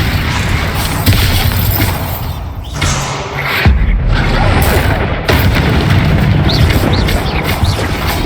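Bombarda explosion spells cast in the video game Hogwarts Legacy, a dense run of loud booming blasts and thuds with shattering debris, several heavy hits following one another over a constant rumbling game soundscape.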